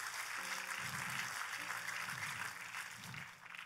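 A church congregation applauds during a Christian sermon, a steady, fairly faint wash of clapping that runs the whole time, with sustained musical tones underneath.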